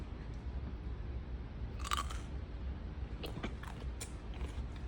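Biting into a crunchy homemade refrigerator dill pickle, with a few sharp crunches and chewing sounds spread over several seconds, close and fairly quiet against a steady background hiss.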